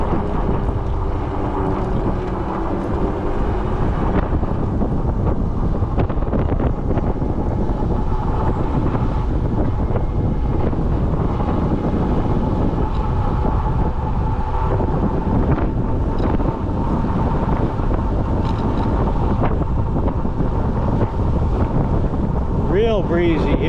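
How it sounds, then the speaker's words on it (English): Wind buffets a camera microphone on a bicycle ride along a paved trail at dawn, a loud continuous roaring rumble that never lets up, with the rider's voice faintly mixed in. "Real breezy here. Real breezy. I hope it's not too loud on the camera."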